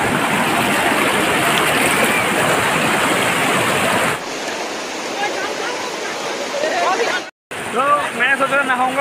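Rushing stream water pours steadily over rocks in the foothills near Sonai Rupai and Missamari on the Assam–Arunachal Pradesh border, loud and close, dropping briefly before resuming with splashes.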